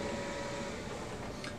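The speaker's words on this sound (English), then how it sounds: "we'll give it a second for the printer to initialize" A Brother MFC 9970 printer initializes with a quiet, steady mechanical whir and hum, faint and unbroken throughout.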